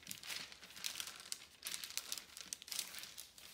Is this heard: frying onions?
no